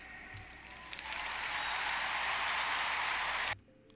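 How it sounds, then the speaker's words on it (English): An audience claps during a spoken performance, a dense broadband patter of hands that swells after a second, holds steady and loud, then cuts off abruptly near the end. "The claps, the little teenage claps."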